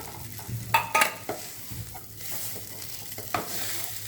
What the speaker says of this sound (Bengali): এবার সব কিছুকে খুব ভালো মতো মিশিয়ে নেব।